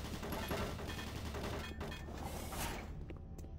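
Automated turret guns firing in Doom 3, a continuous dense rattle of rapid gunfire with occasional heavier bursts, steady and fairly loud throughout.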